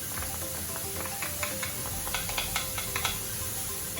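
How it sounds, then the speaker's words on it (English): Diced onion and chopped garlic sizzle steadily in a hot pan during stir frying, with a constant frying hiss broken by soft scraping stir strokes, fairly close and moderately loud with no voices. "When we cook the onion and the garlic, you may have to constantly stir fry them to prevent them from burning"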